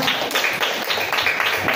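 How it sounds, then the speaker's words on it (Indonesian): Clapping from a classroom audience at an Indonesian teacher performance assessment, a brisk, steady patter of many hands with slightly rhythmic pulses, close and moderately loud. "Sekali lagi dong, beri tepuk tangannya."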